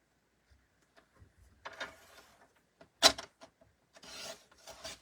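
Card paper being trimmed by hand, giving a few scattered scraping and cutting rasps with one sharper snip, close and quiet, separated by near silence.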